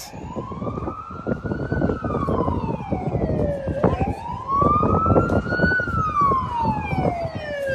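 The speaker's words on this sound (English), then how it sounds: "Sorry about the sirens." A loud wailing emergency siren rises and falls in long slow sweeps, close by, over rumbling traffic noise near Flinders Street Station in Melbourne, Australia.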